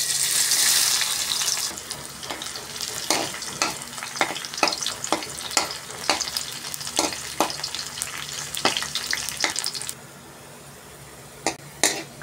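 Garlic and onion sautéing with shrimp paste, a steady close sizzle broken by repeated sharp clacks of a spatula against the pan, fading to a quieter hiss near the end.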